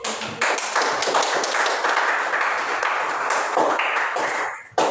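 Schoolchildren clapping together in a classroom, a loud sustained burst of many small hands that runs for several seconds, then stops abruptly.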